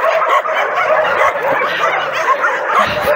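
Dogs at an animal shelter yipping and barking, a busy overlapping chorus with whimpers mixed in, loud and close throughout.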